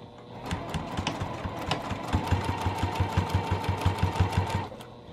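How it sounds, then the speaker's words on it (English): A sewing machine stitches along the edge of a small vinyl notions pouch in a fast, steady run of rhythmic mechanical clatter that speeds slightly and then stops near the end, close and clear. "I'm gonna go ahead and just stitch right along this edge"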